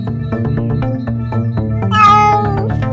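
A kitten meows repeatedly in short, close calls, rising into a louder, higher drawn-out cry near the end, with no talking.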